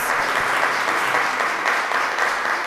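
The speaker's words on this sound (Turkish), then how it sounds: "Her iki masamızı da alkışlıyoruz." Studio audience on a children's quiz show applauding both competing tables, a loud, dense, even roar of clapping from many hands, sustained throughout with no talk.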